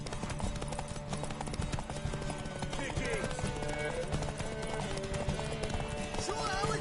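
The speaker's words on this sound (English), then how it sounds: "Want that horse," Steady clip-clop hoofbeats of a galloping horse in The Witcher 3 run through the whole stretch, mixed with game music and speech-like voices.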